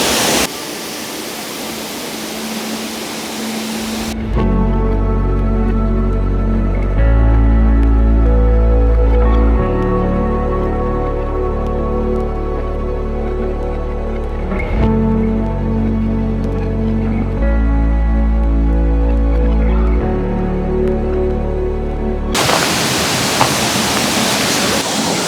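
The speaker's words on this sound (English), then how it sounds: "So this waterfall here, it flows down, and the downstream is like that." The Netravali waterfall in Goa rushes with a loud, steady roar of falling water at the start and end, while music plays over the long middle stretch.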